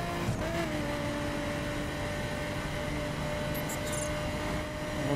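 A car racing flat out along an open road in The Crew, with a steady, loud engine drone holding constant pitch for several seconds and no one speaking over it.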